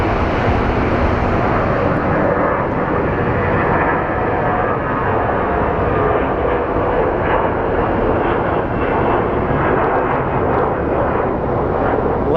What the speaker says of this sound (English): we have a Frontier Airlines flight lining up for departure